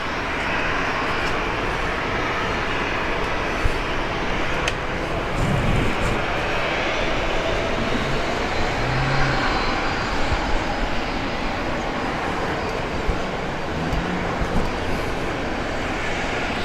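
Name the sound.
Gulfstream corporate jet aircraft engine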